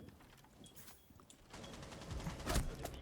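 Rapid gunfire in a shooter video game, a fast rattling burst that grows louder and denser toward the end, heard fairly faint in the background.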